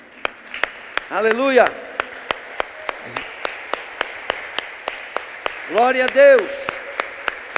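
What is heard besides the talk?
congregation clapping applause for Jesus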